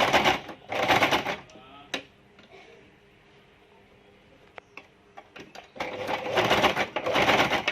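A home sewing machine runs double stitching along a cloth mask in two bursts of rapid mechanical chatter, separated by a quiet pause with a few light clicks.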